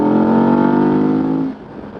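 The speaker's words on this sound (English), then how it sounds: "that's why the bike sounded so loud." A KTM 1290 Super Adventure motorcycle engine roars loud and close with a steady drone, then drops away sharply near the end, leaving a quieter rumble.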